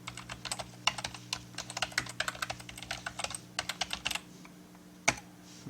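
Fingers type account details on a computer keyboard, a close, quiet run of quick irregular key clicks in bursts, ending with a single sharper tap after a brief pause.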